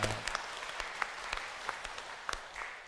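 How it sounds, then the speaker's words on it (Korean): Steady applause from a church congregation during a Sunday service, honoring the choir after its hymn: dense, continuous clapping from many hands with sharper individual claps poking through, moderately distant. "박수로 한번 격려해 주셨으면 고맙겠습니다."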